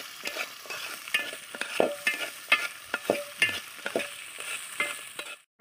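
Ginger fries in oil for a jackfruit pickle while being stirred, a close, rhythmic series of scraping and clattering strokes roughly every half second over a soft sizzle.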